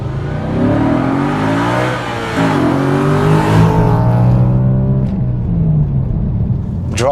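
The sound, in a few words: Audi RS4 car being driven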